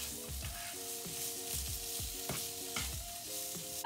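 Cherry tomatoes frying in a pan for Spanish sardine pasta, a close, steady sizzle with soft stirring scrapes and light clinks recurring at a regular pace, no one talking.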